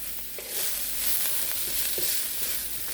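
Corn and carrots sautéing in oil for Korean japchae with sweet potato glass noodles, a steady soft sizzle broken by a few light stirring scrapes.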